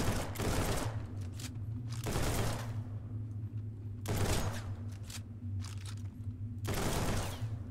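Bursts of gunfire from weapons in the video game Project Stray, a magnum and an assault rifle among them, come as four separate rapid volleys spaced a couple of seconds apart over a steady low hum.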